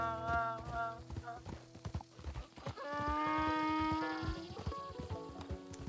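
Donkeys bray in Red Dead Redemption 2, with drawn-out, mournful honking calls rising and falling over rhythmic hoof clip-clop, moderately near and mixed with other game sounds.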